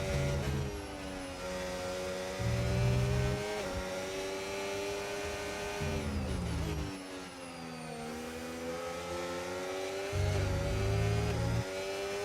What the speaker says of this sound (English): gonna fly past Antonelli on this straight.